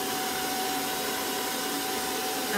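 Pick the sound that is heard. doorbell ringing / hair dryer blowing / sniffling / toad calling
hair dryer blowing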